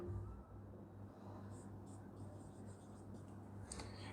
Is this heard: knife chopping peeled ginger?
no